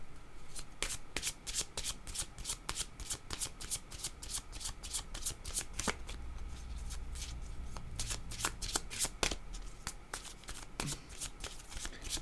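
Tarot cards shuffled by hand in a steady run of crisp riffling flicks, close and clear, continuing for several seconds with a faint background hum and no talk over it.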